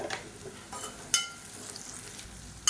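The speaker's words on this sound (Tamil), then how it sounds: "இப்போ வெங்காயம் லேசாக வதங்க ஆரம்பிச்சிருச்சு" Sliced onions sauté with salt in a pan for tomato kurma, a soft, continuous sizzle broken by a few sharp spoon-on-pan scrapes and clinks.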